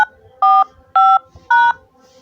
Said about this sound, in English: Please enter your password, then press pound.